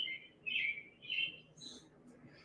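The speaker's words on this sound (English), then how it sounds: "I hear birds." Birds chirp in short bright bursts, several calls in a row at moderate distance over a faint low background rumble.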